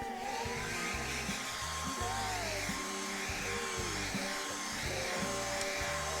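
A small handheld dryer blowing on freshly painted white paint, a loud, steady whirring drone that holds throughout with a slight shifting pitch and no voices.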